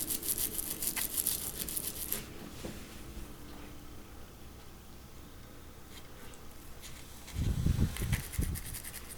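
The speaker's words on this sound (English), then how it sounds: "I needed some good hot soapy water to scrub all that brownish gooey sticky stuff off." A diecast Gran Torino drag car part is scrubbed with a brush in hot soapy water, giving rough bristly bursts at the start that fade to quieter rubbing, then a louder burst of scrubbing and splashing near the end.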